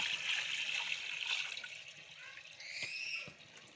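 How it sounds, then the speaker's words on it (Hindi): Water pours into a pressure cooker in a village kitchen, a steady splashing stream for a couple of seconds that thins into trickles and drips, close by and with no talking. "उबालने के लिए हम प्रेशर कुकर में ऐड कर देते हैं पानी"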